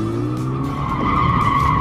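A car drifts during a professional drift course at the Speedway International racing circuit, its tires screeching in a long, unbroken skid over a steady engine drone, close and loud, with no talking.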